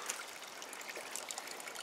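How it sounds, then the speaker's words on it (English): Spring water trickling from a seep in a canyon of the Davis Mountains, a soft, steady splashing babble heard close up and alone. "you find little springs where the water seeps through"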